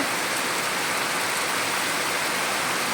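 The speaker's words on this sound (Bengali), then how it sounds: "মুষলধারে বৃষ্টি হচ্ছে," Heavy rain pours down steadily, a dense, continuous hiss of falling water with no pauses or voices.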